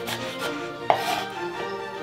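A knife finely chopping red onion on a cutting board, with rapid close repeated taps and one sharper knock, steady and fairly loud, with no talking.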